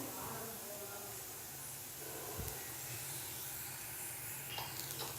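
Chillies frying in oil in a pan for a Tamil beans poriyal, a steady close hiss and sizzle with a faint scrape of stirring partway through.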